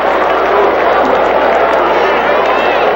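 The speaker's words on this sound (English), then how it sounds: "the crowd's starting to boo because they showed a replay that it didn't show it either" A large football stadium crowd at a 2002 college game between Boise State and Idaho roars with a steady, dense, unbroken wash of noise for the whole stretch, loud and continuous with no clear breaks.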